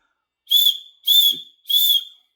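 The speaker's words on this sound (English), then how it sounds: "3 blasts of a whistle is your universal call for help" Three sharp, shrill blasts from a survival whistle, evenly spaced and loud, each about half a second long, with silence between them.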